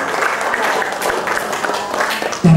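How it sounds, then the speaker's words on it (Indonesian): An audience at a government office audit results event claps in a dense, steady round of applause close by, ending with a brief tonal sound at the very end. "Ya tepuk tangan, jadi tidak ada perbaikan."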